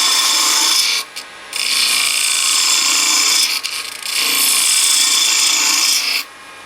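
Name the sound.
detail gouge carving a flat in wood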